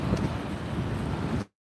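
Cold, strong wind buffets the microphone outside Yankee Stadium, a continuous low roar for over a second before cutting off abruptly.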